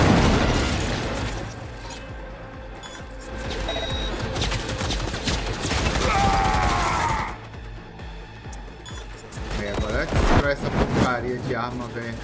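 Gunfire in the video game Cyberpunk 2077, a sustained volley of shots layered with booms and loud bursts, running on and off throughout alongside game sounds and voices.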